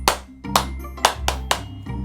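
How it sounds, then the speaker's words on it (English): Hands clap five times in an even, steady rhythm about half a second apart during a Simon Says game for kids, each clap sharp and close, with a faint musical backing underneath. "clap your hands."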